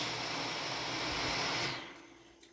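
A PLC trainer machine runs with a steady broadband whir and hum, then is cut off by its stop switch and quickly winds down into near silence.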